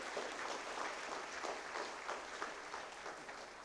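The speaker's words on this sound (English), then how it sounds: "Shall we give them a huge round of applause?" Faint, distant applause from an assembled audience at a school student council investiture ceremony, a soft continuous patter of clapping with no voices.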